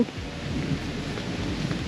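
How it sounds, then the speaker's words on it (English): A steady downpour with rolling thunder in Agra, India, heard from shelter: dense rain hiss and a low continuous rumble, loud and close, with no voices. "We got stuck in rain."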